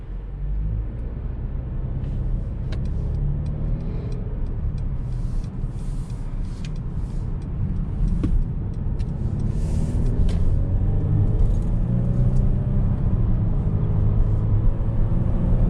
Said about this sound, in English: I'm hearing a little bit of wind noise that is coming from the windows.